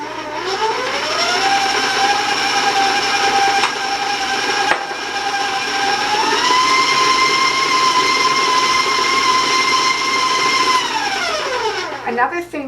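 An electric mixer creaming butter with granulated sugar: a loud, steady whirring drone that revs up at the start, holds for several seconds, shifts pitch midway and winds down at the end.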